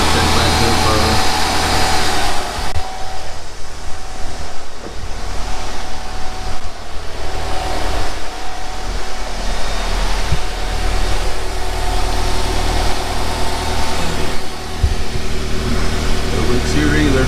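A 2005 Nissan Altima 2.5 idles with a fresh replacement catalytic converter in its exhaust, giving a steady, close, even engine hum with a low rumble throughout.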